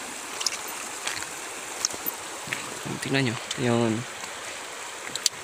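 River water flows over rocks in a steady, moderate babble and trickle, and someone speaks briefly over it in the middle.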